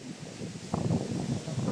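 Strong, storm-like wind gusts on a mountain, a steady broadband rush that swells louder partway through and keeps roaring without a break.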